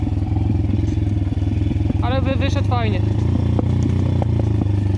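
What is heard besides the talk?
pit bike engine with exhaust popping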